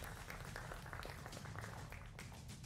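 Faint, steady applause from a studio audience welcoming panelists on a televised election debate, a dense wash of clapping with almost no voices.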